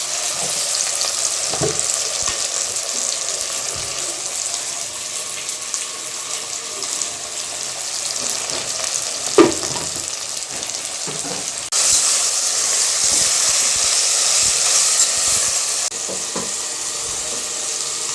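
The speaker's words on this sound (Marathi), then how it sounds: "सगळ्या भाज्या टाकून दिल्या त्या थोड्या परतून घेते" Mixed vegetables and onion sautéing with a little salt in a hot pan, a constant loud sizzle broken by stirring scrapes and clinks, with a brief surge of louder hissing partway through.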